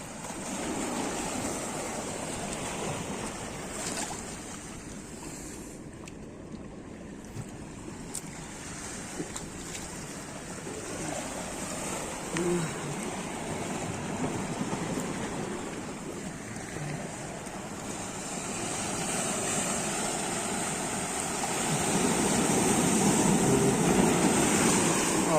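Sea waves at Porbandar beach in the morning roll and wash steadily under gusty wind noise, a broad continuous surf that swells louder toward the end.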